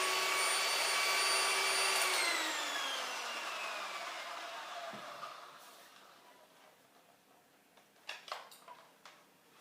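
An electric mixer whips egg whites in a bowl for lemon pudding with a loud, steady whine that slowly winds down. Light clatters and taps follow near the end.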